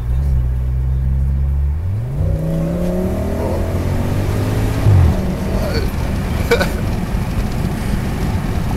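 A car engine idles at a low rumble, then revs up and accelerates with rising pitch before settling into a steady drive with road noise, close and loud.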